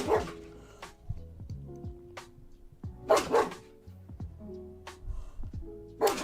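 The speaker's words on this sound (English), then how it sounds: "can hear a dog outside" A dog barks outdoors in repeated short bursts, with clusters at the start, middle and end, heard from some distance over a quiet room.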